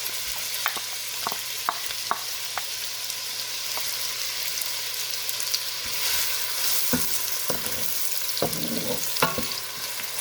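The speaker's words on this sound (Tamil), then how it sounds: "இந்த ஆயில் ஹீட் ஆகிட்டு நான் ஒனியனை அதில் போட்டு ஃப்ரை பண்ணுறேன்" Onion frying in hot oil for Jaffna-style spicy mussels, a steady sizzle with scattered spatula taps and stirring, no one talking.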